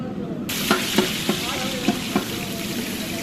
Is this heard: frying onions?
yes